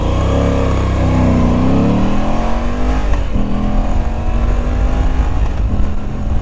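A Moto Guzzi V85 TT motorcycle pulls away from a standstill, its engine rising through a gear, dipping briefly at a shift, then building again, loud and close throughout.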